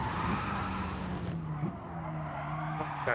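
Car tires screech and skid under hard braking in Gran Turismo Sport, a sustained squeal over the engine drone that peaks briefly midway and then carries on.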